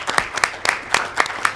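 Audience applause welcoming Dr. Kickham, former president of the National Association for Welfare Research and Statistics, at a debate panel, heard as short, rhythmic bursts of clapping.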